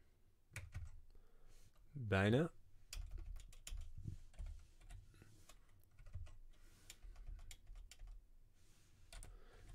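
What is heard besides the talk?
typing on a computer keyboard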